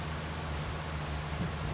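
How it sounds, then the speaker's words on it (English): Wintry rain falls in Farming Simulator 25, an even, soft hiss of steady downpour with a faint low hum underneath, heard alone without speech. "And it's now raining apparently."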